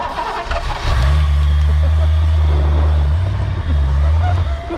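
A Foxbody Mustang GT that sat for 19 years cranks and catches, its engine settling into a loud, rough idle with a brief dip and recovery midway, close and dominant.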